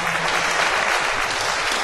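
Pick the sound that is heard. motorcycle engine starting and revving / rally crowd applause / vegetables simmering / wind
rally crowd applause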